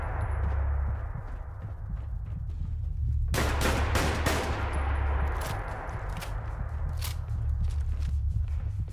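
Guns fire in the Fallout London video game, a loud cluster of sharp shots around the middle over a low droning background hum, with a few more scattered shots near the end.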